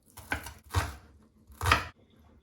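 Three distinct knife chops on a cutting board as shallots are cut for an asparagus risotto, close and crisp with short pauses between strokes.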